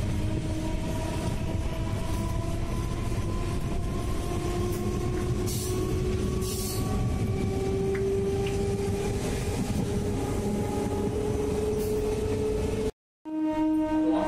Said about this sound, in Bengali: হাওয়াসপুর স্টেশনে ট্রেন চলে এসছে।